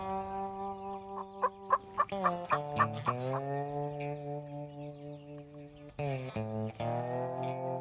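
Wild turkeys gobble repeatedly in loud, rattling bursts, close and overlapping, with a stretch of sustained calling and a short flurry of noise partway through as they fly off chased by a coyote.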